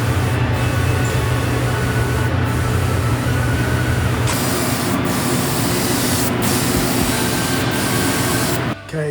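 Primer is sprayed onto the frame of a 1987 Honda CR500 motorcycle as a continuous loud airy hiss from a spray gun, near and steady, with a brief break at the end.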